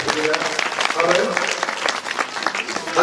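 An audience at a Ramayan recital in Mohrenga breaks into dense, sustained clapping throughout, loud and close, with faint voices mixed in.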